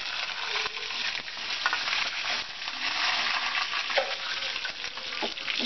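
Dried red chillies, crushed garlic and curry leaves fry and crackle in hot oil in a pan for Andhra-style gongura pachadi, a dense continuous sizzle with stirring scrapes, close and loud with no talk.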